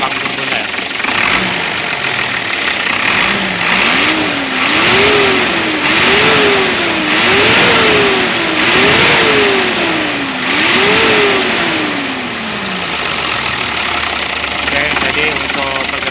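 A Hino Lohan truck's turbo diesel engine idles loudly close by, then revs repeatedly in a steady series of rising and falling pulls before settling back to a rough idle.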